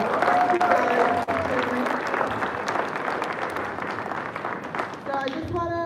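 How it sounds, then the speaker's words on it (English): Steady applause from a school audience for a panel, a thick even roar of clapping that tapers off as a voice starts speaking at the end. "give our panel a round of applause."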